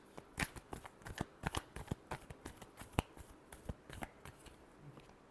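A deck of tarot cards is riffled and shuffled nearby in quick, crisp bursts of papery flicks and snaps, repeated rhythmically with short pauses, quiet and with no voices.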